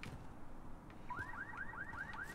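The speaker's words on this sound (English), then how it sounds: "I hear a car alarm." In the Call of Duty: Modern Warfare campaign, a car alarm whoops in a repeating rising warble, fairly faint and distant, behind low background noise.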